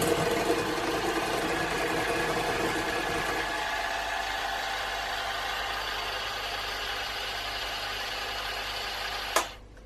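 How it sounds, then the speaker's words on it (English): An electric mixer whirs steadily through gluten-free milk chocolate chip cookie dough, loud and even for several seconds, then drops to a softer hum before a short clunk near the end. "And now we're going to mix until well combined."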